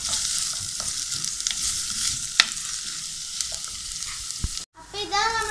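Onions fry and get stirred in a pan for a beef masala, a dense continuous sizzle with scraping stir strokes and clicks throughout, close and loud, ending in a short break and brief faint voices.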